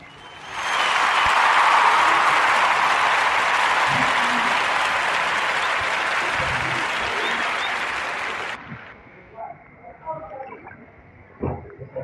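A crowd applauds on a podcast, a dense, loud burst of clapping that swells quickly, holds for about eight seconds and then cuts off, followed by brief quieter sounds.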